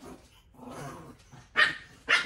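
A dog in a home barks twice, sharp and close, after a low growly rumble, with no talking over it.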